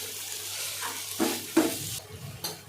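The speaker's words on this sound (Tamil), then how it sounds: "இதெல்லாம் சேர்த்து வதக்கி விட்டுக்கலாம்." Chicken masala, coriander powder and turmeric are stirred and sautéed in a pan for an egg dish, with a soft sizzle under several sharp scrapes and clinks of a spoon against the pan, close by and without talk.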